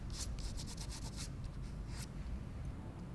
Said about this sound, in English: So I'll use a scalpel and just remove that.